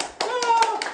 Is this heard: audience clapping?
yes